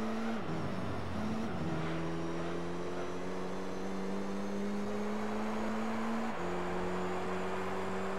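A Camaro race car with over 900 horsepower screams along in Gran Turismo 3, a loud, steady engine drone rising slowly in pitch through the gears, with a brief drop and climb at each upshift.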